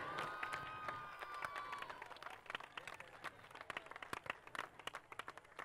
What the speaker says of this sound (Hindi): जोर से तालियां बजाइए और big of applause ladies and gentleman